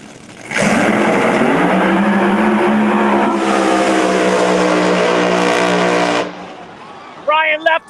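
A drag race car makes a pass at Galot Motorsports Park during a Street Outlaws No Prep Kings invitational. A sudden, very loud engine roar holds for about six seconds with rising pitch, then fades, and a voice comes in at the end.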